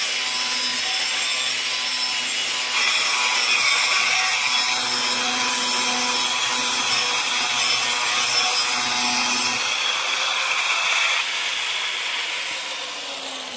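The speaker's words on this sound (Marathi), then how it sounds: "बघू शकता इथं ग्राइंडर मारायला चालू आहे" A power grinder runs during work on a water pipeline, a loud, steady whirring drone with harsh abrasive grinding that holds for over ten seconds and then winds down and fades near the end.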